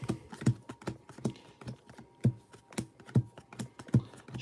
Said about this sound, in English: So I'll start shuffling these.